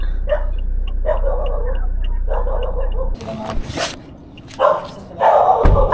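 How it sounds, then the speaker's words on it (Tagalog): A dog barks in short bursts at a truck unloading stop during a delivery in Cebu City. The barks come in several separate bursts over a steady engine hum, followed by louder clattering and rustling. "May aso."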